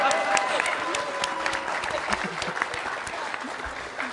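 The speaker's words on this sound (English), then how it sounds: "Round of applause for Tina Williams." A convention crowd applauds steadily for a panel speaker, dense clapping that gradually eases off.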